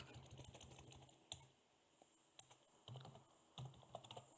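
Typing on a small keyboard, sparse irregular key taps close by with short pauses between bursts, quiet and without talk.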